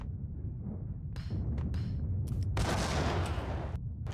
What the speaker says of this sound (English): just throw a grenade down there